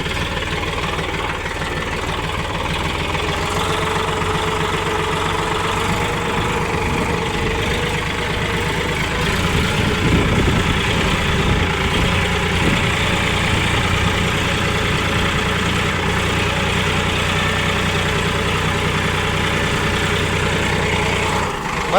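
A tractor engine idles loudly and steadily up close, a constant heavy rumble with a knocking throb running unbroken throughout.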